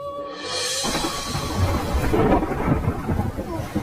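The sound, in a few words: thunderstorm with rain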